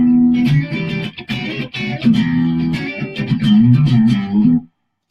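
An electric guitar played through a bluesy overdrive pedal rings out in a continuous phrase of sustained, slightly distorted notes and chords, loud and close, then cuts off abruptly.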